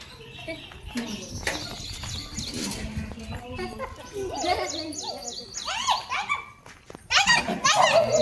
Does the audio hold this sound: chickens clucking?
no